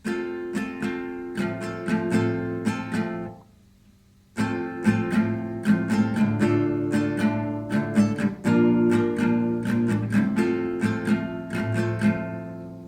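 Guitar strumming plays a simple chord intro for an easy Valentine's Day song, using a down, down-up, up-down-up pattern. Steady rhythmic strokes ring out clearly with no talking, and there is a brief pause partway through.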